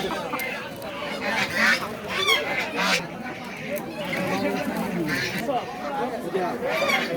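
Chickens cluck and squawk at a busy village poultry market, mixed with constant crowd chatter and people talking nearby.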